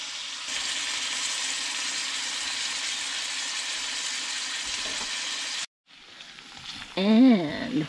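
Ground beef for flautas frying in its grease gives a loud, steady sizzle close by for several seconds, then cuts off briefly before a voice and clattering noises come in.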